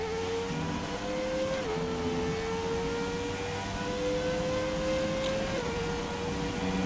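A Formula car in the F1 2017 racing game holds a high, sustained engine whine that drops in pitch at two downshifts. The sound is loud and continuous, with no talk over it.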